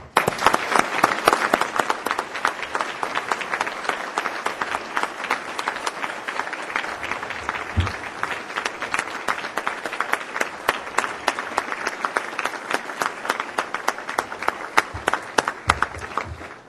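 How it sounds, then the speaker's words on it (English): A lunch audience applauds at length for Ontario's Minister of Training, Colleges and Universities, John Milloy: dense, sustained clapping from a sizable crowd, steady and close, with brief murmurs of voices mixed in. "please join me in applauding"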